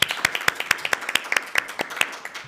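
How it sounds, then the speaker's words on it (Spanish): A small group gives a short round of applause in a meeting room, with distinct, close hand claps at an irregular pace that taper off after about two seconds. "la despedimos con un aplauso"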